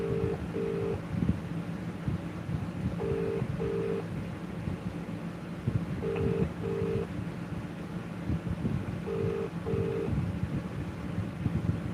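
Phone keypad dialing tones on a call to an auto shop's automated line, short paired beeps repeating in groups of two at a steady pace over a constant hiss of background noise.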